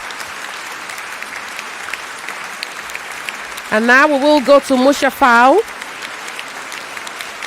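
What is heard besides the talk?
audience applause at a school debate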